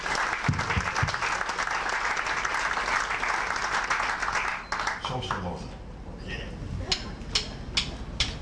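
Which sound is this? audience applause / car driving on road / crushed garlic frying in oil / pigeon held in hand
audience applause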